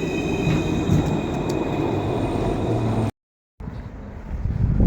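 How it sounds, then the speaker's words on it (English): A tram rolls past in Dublin with steady low rumbling and wind buffeting the microphone, briefly dropping out before resuming. "There's the tram."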